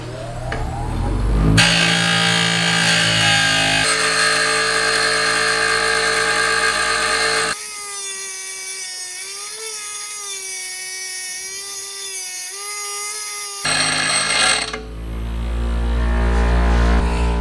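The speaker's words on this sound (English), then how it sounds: "It takes a while with this grinder." A grinder sharpens driftwood spear points for a speargaff, giving a loud, continuous, high-pitched whine that wavers in pitch and load as the disc bites, then drops into a lower grinding roar toward the end.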